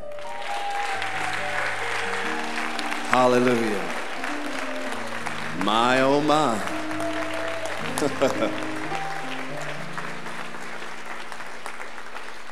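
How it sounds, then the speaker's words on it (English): Applause from a church congregation for the pastor, a steady crowd clapping beneath a voice that calls out and sings over it with emotion. "Give our pastor a big clap."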